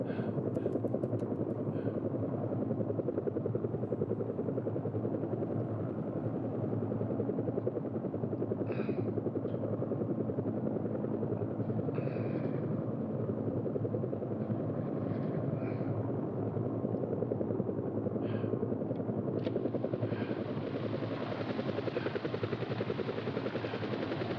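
A video game helicopter's rotor drones steadily overhead for the whole stretch, a loud continuous thrum with occasional faint clicks and a brief swell near the end.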